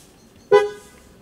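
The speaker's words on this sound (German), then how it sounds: "wenn mindestens zweimal gehupt wurde" A single short car horn toot sounds at a traffic light, clear and fairly close against a quiet background, and then fades out quickly.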